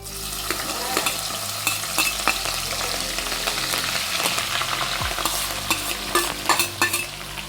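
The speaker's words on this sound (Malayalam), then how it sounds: "ഒരു ആറ് ചെറിയ ഉള്ളി അതും വട്ടത്തിലരിഞ്ഞ് ഇതിനി നമുക്ക് ഈ എണ്ണയിലേക്ക് തന്നെ ഇട്ട് വറുത്ത് പോരാം" Sliced rounds of green chilli and small shallots fry in hot oil for an Onam ginger curry, giving a close, steady, dense sizzle broken by repeated scrapes and clinks of stirring, with no talking.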